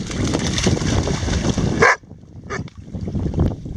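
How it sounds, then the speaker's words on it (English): A dog barks loudly and close for a couple of seconds, then a short pause and a few more softer barks follow. "Just barking."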